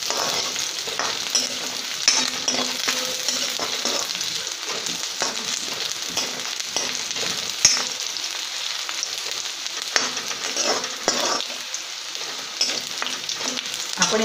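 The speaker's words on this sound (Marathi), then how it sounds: "यात मी आता लसूण पाकळ्या घातलेल्या आहेत आणि त्या आता व्यवस्थित आपल्याला परतून घ्यायच्या आहेत" Onion and garlic cloves sauté in a pan with a steady, crackling sizzle and occasional scraping stirs close by throughout.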